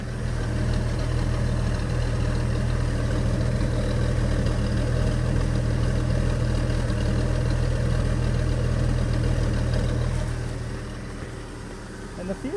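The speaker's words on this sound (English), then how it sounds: "No spluttering, nothing, just a perfect solid idle." A 1974 Ford F-250 Ranger engine idles smoothly and steadily, heard close at the tailpipe as a constant low rumble that fades slightly near the end, with faint talk at times.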